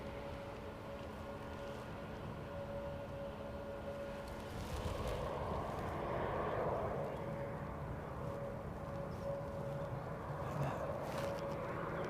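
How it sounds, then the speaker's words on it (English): Air France Airbus A318 taxiing at the Airbus factory in Toulouse, a distant, steady engine rumble with a faint whining tone that swells midway, heard outdoors through wind noise. "Oh look, Air France's little A318. Now that's interesting that she's coming down here."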